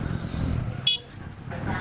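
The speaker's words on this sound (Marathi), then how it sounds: "गाड्यांची वर्दळ चालू आहे" Evening traffic on a crowded station road in a village town, a steady low rumble of passing cars and motorbikes with a brief high tone midway, voices chatting over it.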